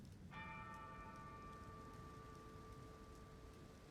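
A bell dings once in the Elden Ring video game, a sharp metallic strike that rings on with a long, bright, slowly fading tone over steady rain-like ambient hiss.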